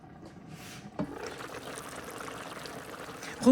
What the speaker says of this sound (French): Je vois que là, ça bouillonne un peu.